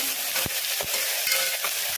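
Ginger garlic paste frying with onions in a pan for a mutton recipe, a continuous sizzle broken by several spoon stirs and scrapes, cutting off abruptly at the end.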